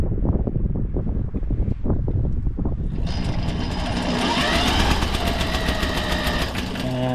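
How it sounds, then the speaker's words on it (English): A small generator engine spun by a cordless drill fitted with a 3/4 inch socket, a loud, steady whirring grind that rises in pitch and gains a harsher high-pitched whine partway through, running without pause. "I put a 3/4 inch socket in my drill. And now I can lay the spark plug up against the engine and spin the engine"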